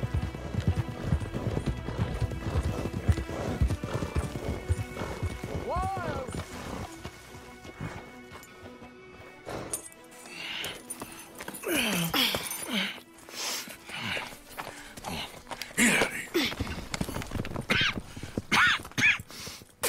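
Hooves clip-clop rapidly as horses gallop in the video game Red Dead Redemption 2, with a horse whinnying and people talking over the pounding hoofbeats.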